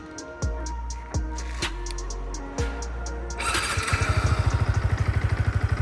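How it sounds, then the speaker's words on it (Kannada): A Yamaha MT-15 150cc motorcycle first gives a few short, sharp blips close by, then settles into a steady, throbbing exhaust burble at idle, moderately loud, with no talking. "ಇದು ಐಡಲಲ್ಲಿ ಈ ಥರ ಸೌಂಡ್ ಕೇಳಿಸುತ್ತೆ ನಿಮಗೆ MT-15."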